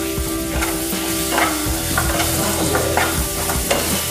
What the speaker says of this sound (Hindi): मूंग दाल डालते हैं। इसको भी हम इस तरह से चला दे रहे हैं।